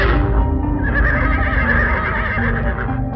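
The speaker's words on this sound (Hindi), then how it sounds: "अचानक से घोड़े डरने लग जाते हैं।" Cartoon horses neigh in fright, a loud, continuous whinnying chorus that fills the whole moment with shrill, wavering cries and no talking.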